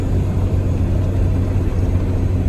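A 12-valve Cummins diesel truck pulls a load under growing throttle with high boost, its engine a heavy, continuous low rumble that stays loud and close inside the cab, with no talk over it.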